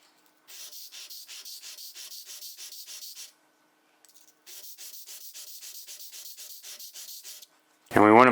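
A cabinet scraper is rubbed back and forth on a coarse sharpening stone, making two runs of rhythmic, close scraping strokes separated by a brief pause. A voice starts at the very end.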